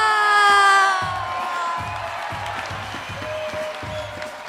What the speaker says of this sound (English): A round of applause for all these wonderful students.